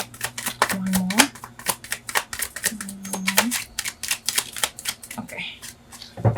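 Tarot cards being shuffled up close, a rapid run of crisp riffling flicks repeating almost continuously, while a voice speaks briefly in the background.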